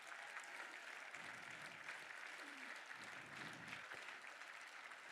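Guests at an ALS foundation charity gala applaud caregivers with a steady wash of clapping. It sounds faint and distant throughout, with a brief murmur of voices partway through.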